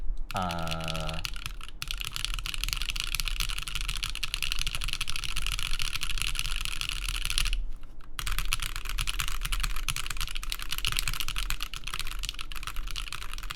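Typing on a QK Alice Duo mechanical keyboard, a steady, fairly loud run of key clacks over a constant broadband background hum, with a brief rising tone near the start.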